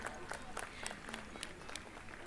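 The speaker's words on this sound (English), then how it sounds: "May we have a big round of applause for our Honorable Chairman, Mr. Gopal Ansal" Applause at a school annual day function, a soft, thin patter of many hands with a few sharper individual claps standing out, heard at a distance.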